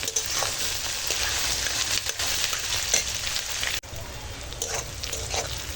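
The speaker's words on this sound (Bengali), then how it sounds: "এবারে পেঁয়াজ আর কাঁচা লঙ্কা একসঙ্গে ভেজে নেব" A loud, steady sizzle of onion and green chilli frying fills the clip, with a spoon scraping and stirring the pan now and then.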